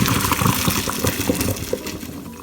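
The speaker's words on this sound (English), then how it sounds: "And then you will just drain the water out of the cooked noodles" Water pouring out of a pot of cooked noodles as it is drained, a loud splashing gush close by that tapers off toward the end.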